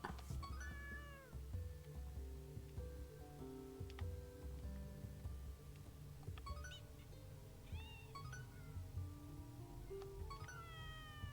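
Several cats meow repeatedly in the Hidden Cats in Spooky Village game, each short rising and falling mew standing out over soft looping background music and light ticking clicks.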